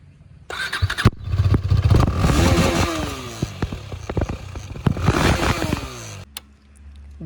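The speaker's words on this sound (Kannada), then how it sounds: "ಈ ಬೈಕಲ್ಲಿ ಎ ಸಿಕ್ಸ್ ಎಕ್ಸಾಸ್ಟ್ ನೋಟ್ ಹೆಂಗಿರುತ್ತೆ ಅಂತ ನೋಡೋಣ" A KTM Duke 250 BS6 motorcycle starts and revs up close, its exhaust note rising and falling through several loud throttle blips before settling back to a lower idle.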